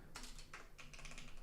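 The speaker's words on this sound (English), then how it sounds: "and I have very clicky keyboard." Keys clatter on a clicky Corsair computer keyboard in quick irregular bursts, close and fairly quiet, with no voices.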